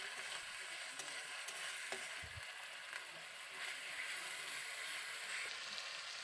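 Tomato and onion paste fries in a pan with a soft, steady sizzle, quiet and continuous, with faint stirring scrapes now and then and no talking.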